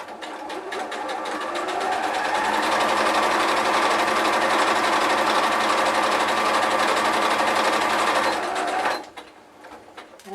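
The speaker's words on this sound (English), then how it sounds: "And as you can hear, I've just back stitched at each end of my stitching." A sewing machine stitches fabric for a bag slip pocket, including back stitching, a steady fast whirring rattle running loud and close for about nine seconds before stopping abruptly.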